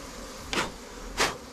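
Honeybees fly around a beehive, giving two brief buzzing passes close to the microphone over a faint steady background hum.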